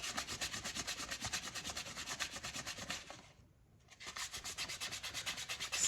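Steady rhythmic sanding strokes rub the wooden handle of a 10-inch Stanley No. 945 carpenter's ratchet brace during restoration, close and continuous with one brief pause midway.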